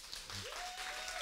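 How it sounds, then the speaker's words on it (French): Short burst of audience applause, a dense wash of clapping at steady level throughout, with a sustained tone or whistle running across the middle. "applaudissons-la pour qu'elle l'entende"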